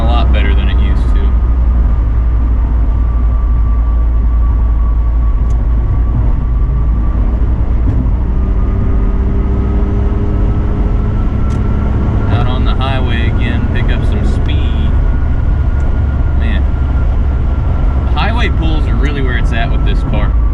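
Toyota Supra turbo engine drones steadily while driving, a continuous loud rumble with a faint rising whine, and people talk over it at times.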